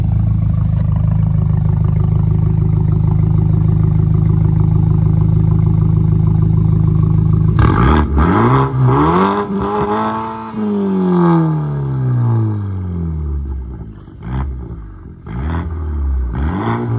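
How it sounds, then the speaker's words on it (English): A BMW engine revs hard from a steady loud idle, climbing and falling through several sharp throttle blips with a long sweeping rise and fall, close and powerful throughout. "I'm about to rev this really loud."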